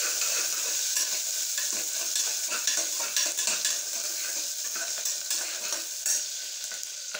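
Curry leaves and onion sauté in a pan for a mutton curry. A steady, close sizzle runs throughout, broken by frequent scraping stirs of a utensil against the pan.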